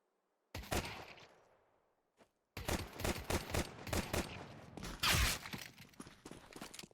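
Rapid bursts of gunfire in a competitive esports video game match, loud and close, with one short volley, a brief pause, then sustained automatic fire for several seconds.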